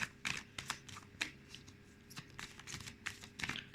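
Tarot cards are shuffled by hand in quick, close bursts of riffling and soft slaps, at low volume and without any talking.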